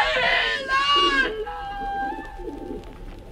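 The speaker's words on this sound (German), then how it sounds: "die Taube ist in ihrem Schreck mitsamt dem Pumuckl auf das Dach des Vorderhauses hinaufgeflogen" A startled pigeon coos and calls loudly in a children's audio drama, with the call breaking off mid-clip and lower, softer sounds continuing under it.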